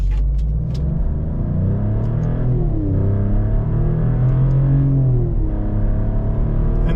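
A 2024 Maserati GranTurismo Trofeo cruises with a loud, close engine rumble inside the cabin, its pitch rising and dipping as the ZF 8-speed automatic shifts through gears.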